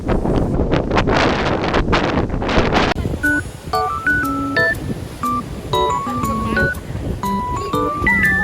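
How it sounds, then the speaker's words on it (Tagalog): Strong wind buffeting the microphone at Bay Park in Atimonan, Quezon, with a rough sea nearby, a loud, continuous rumbling roar that gusts in bursts, followed by a steadier breezy background with scattered tonal sounds. "Sobrang lakas ng hangin at sobrang ginaw."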